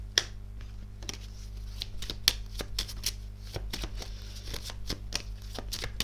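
Playing cards shuffled repeatedly during a card reading, a run of crisp riffling bursts and sharp snaps over a steady low hum, fairly close and moderately loud, with no talking.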